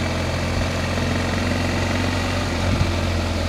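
A 2022 BMW R 1250 GS motorcycle engine idles steadily, a continuous low throbbing hum that stays loud and even throughout, with a slight rise near the end and no talking.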